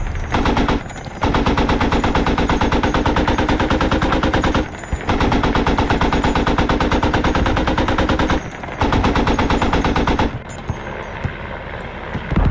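Loud, sustained bursts of rapid machine-gun fire in the video game Squad, interrupted by a few short pauses, then fading into a rumbling engine-like noise near the end.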